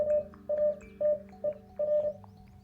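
Morse code sent as a clean, steady single-pitch beep tone, a series of short and long keyed pulses with brief gaps between them, heard alone and fairly close.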